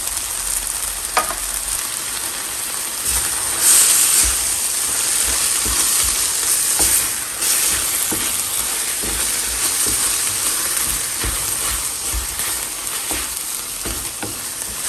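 Tomato, onion and cilantro fry in oil in a pan while canned tuna is stirred in, making a loud, continuous sizzle with scraping and stirring knocks scattered throughout.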